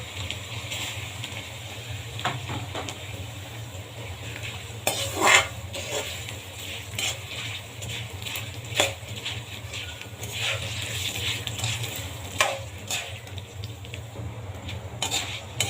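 Cumin seeds frying in hot oil make a low steady sizzle, punctuated by repeated clinks and scrapes of a utensil against the pan, close and moderately loud with no speech.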